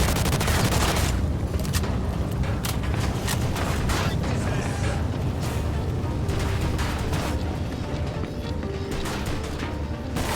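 Sustained heavy gunfire in the Mafia 2 Definitive Edition video game, with dense overlapping bursts and automatic fire rattling loudly and continuously throughout, with no clear speech over it.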